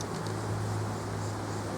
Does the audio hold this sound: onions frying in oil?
no